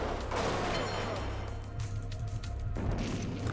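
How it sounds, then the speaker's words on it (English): Cannon fire and battle noise in a strategy video game, a loud booming crash followed by rumbling mechanical clatter, with no talk. "Oh, it's cannon, of course. Of course there's a cannon."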